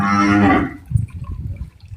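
A Kankrej cow lets out one loud, close moo lasting about half a second, then fades into low rustling and shuffling.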